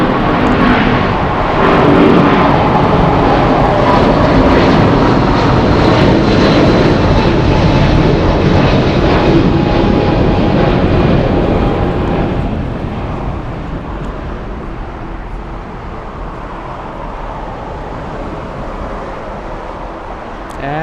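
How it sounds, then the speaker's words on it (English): A Nippon Cargo Boeing 747-8 freighter at LAX roars loud and near, a broad sustained engine rumble that swells early then eases gradually as the jet moves away, with no voices. "Nippon Cargo 108, that 747-8 is Juliet Alpha 11 Kilo"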